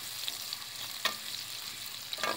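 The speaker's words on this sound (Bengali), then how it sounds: "পেঁয়াজটা একটু ভেজে নিচ্ছি।" Chopped onion fries in about three tablespoons of oil, giving a steady close sizzle with a few sharp pops and crackles, with no voices.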